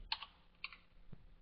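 A few quick keystrokes on a computer keyboard, light clicks in two small bursts, close and fairly quiet, while rebar data is entered into a type schedule.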